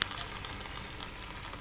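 Masala of onion and spices frying in a pan while being stirred for a gravy, a soft continuous sizzle and crackle, fairly faint and steady with no voices.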